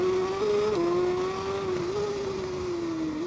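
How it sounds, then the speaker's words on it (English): A failing motorcycle engine in TT Isle of Man 2 drones loudly and continuously with a wavering pitch, dipping and rising as the bike strains through the last section of a racing lap, with no talk. "the bike's now giving up on us. Making noises everywhere as we go for the last section of the lap"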